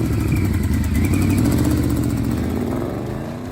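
A Yamaha V-Max 1200 motorcycle engine runs loud and close with a deep, throbbing rumble, holding steady before the revs ease off and the sound slowly fades.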